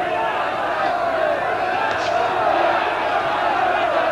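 A large boxing crowd at a Hector Camacho versus Ray Mancini fight cheers and roars after the bout, a dense continuous wall of noise from a packed arena.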